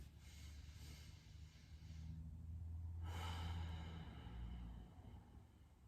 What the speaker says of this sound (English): Let's take 3 more deep breaths into our belly.